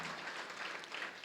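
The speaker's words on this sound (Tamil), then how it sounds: "நல்ல சந்தோஷமா கைத்தட்டலாம் ஐயா," An audience applauds a speech with dense, continuous clapping that holds at an even, moderate level throughout the brief moment, with no voices over it.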